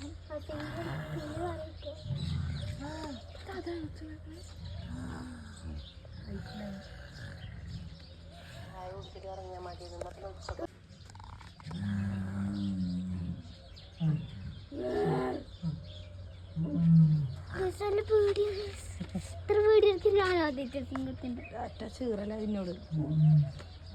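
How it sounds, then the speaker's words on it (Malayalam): A white lion at Qatar's Al Dosari Zoo and Game Reserve roars intermittently from some distance, mostly under steady chatter from visitors, including a voice. "ഇത് വെളുത്ത കളറിലെ സിംഹമാണ്."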